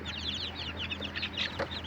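Free-range village chicks cheep in a steady chorus of high, overlapping peeps that run throughout, close by, with a few clucks from older fowl mixed in.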